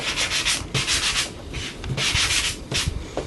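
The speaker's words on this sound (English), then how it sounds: "I'm just going to grab the sanding block and just lightly" Rhythmic rasping strokes of a sanding block rubbed back and forth across paper edges, close up, with short pauses between passes.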